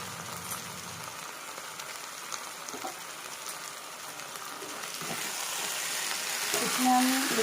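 Chili chicken fries in a pan at a home kitchen, giving a steady soft sizzle that grows slightly louder toward the end, with faint clinks in the background.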